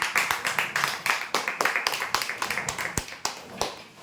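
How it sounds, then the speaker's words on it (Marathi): A crowd applauds a first-prize water purifier winner at a weekly prize draw, with sharp, rapid claps in a steady rhythm that keeps going for several seconds at moderate loudness. "जोरदार टाळ्या होऊ द्या यांच्यासाठी"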